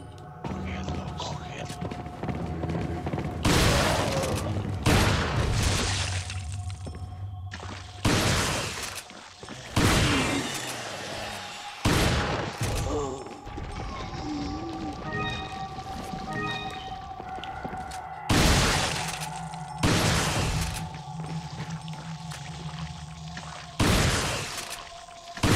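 A shotgun fired in Resident Evil 4 sounds as sharp, loud blasts spaced several seconds apart over game ambience and footsteps, with a player speaking in between.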